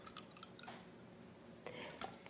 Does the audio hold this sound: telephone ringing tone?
no